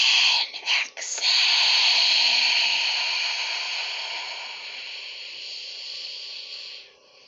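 A long, deep exhale during a guided breathing exercise: a close, airy hiss that follows a couple of brief catches, holds steady for about six seconds, then tapers off.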